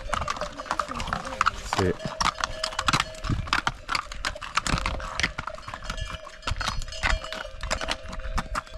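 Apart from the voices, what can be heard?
horse hooves clip-clopping on a mountain path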